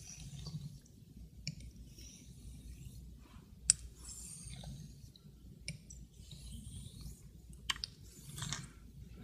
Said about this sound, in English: Slurry here is very crunchy, granular, very granular.